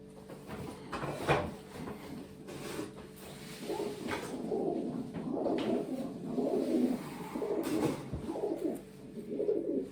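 Close, repeated cooing from young pigeons of the year's first and second broods in a loft, soft throaty calls rising and falling over ten seconds with a few knocks and shuffling sounds.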